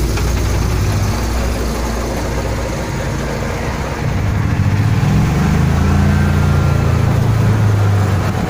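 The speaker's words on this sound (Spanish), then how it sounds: "Qué lindo carro este." A vintage car's engine idles steadily nearby, a low continuous rumble that holds even throughout with a slight shift in tone partway through.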